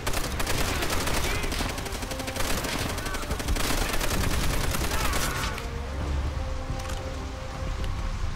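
Rapid automatic gunfire in the World War II shooter Call of Duty: World at War sounds as a dense, loud burst of shots for over five seconds, then drops to scattered distant fire under faint background noise.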